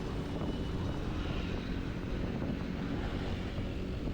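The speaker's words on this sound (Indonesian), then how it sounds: "jadi anginnya sangat kencang" Steady, loud strong wind in an open field on Madura roars and buffets the microphone without pause, a dense rumbling noise with no voices.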